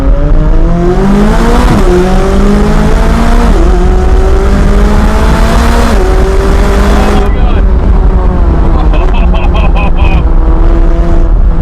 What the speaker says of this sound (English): I love this gearbox. Brutal acceleration.